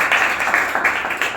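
An audience claps together at a meeting, a brief burst of dense applause lasting just over a second, with no voice over it.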